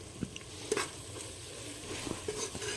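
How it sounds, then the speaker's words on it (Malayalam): Chili, coriander and pepper powders sauté in a pan for chicken biryani, giving a soft, steady sizzle with a few light scraping stirs, close and fairly quiet, with no talking. "മുളക് പൊടി മല്ലിപ്പൊടി കുറച്ച് കുരുമുളക് പൊടി എല്ലാം കൂടി ഇട്ട് ഒന്നുകൂടി നന്നായി വഴറ്റിയെടുക്കും"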